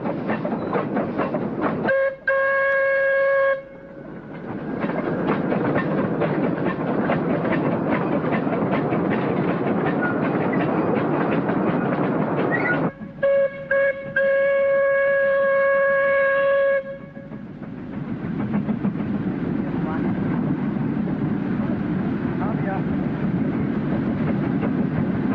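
A train on an industrial line rumbles steadily along the rails, with loud horn blasts sounding twice over the continuous roar of the passing cars.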